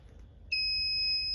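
An electronic buzzer on an automated plant guardian system, with a PIR sensor that detects birds and animals, cuts in halfway through as a steady high-pitched tone over faint room noise.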